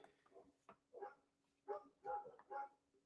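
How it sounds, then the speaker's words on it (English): Several dogs bark in short, irregular bursts of varying pitch at a moderate distance, with some higher yips mixed among deeper barks and no speech. "God, I'm fucking tired of these dogs, man. Can y'all hear them?"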